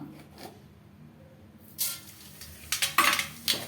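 Mustard seeds and urad dal scatter into a hot pan with crackling and clinking bursts, a few sharp rattles near the end against a quiet background.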